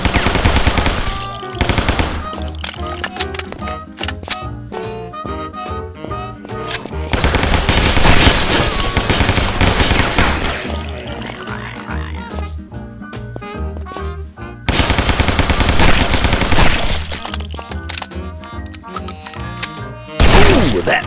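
Rapid machine-gun bursts and gunshots from the video game Guns Gore & Cannoli, loud and dense over a driving music score, with brief pauses between volleys.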